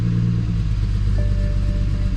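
A BMW E90 335i fires up after ECU programming and settles into a steady, loud low rumbling idle, heard up close with no talking.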